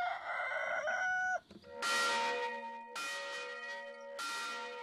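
A rooster crows loudly in a French village, then a church bell rings out in several strong, ringing strokes with long resonant decay between them.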